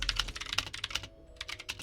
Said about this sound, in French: va peut-être vous dégommer les oreilles. Parce que j'ai acheté un nouveau clavier.